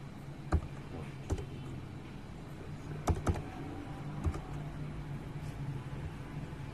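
Keys tap on a keyboard while a code is entered, a few sparse, quiet clicks scattered over a soft steady background hum, with no talking.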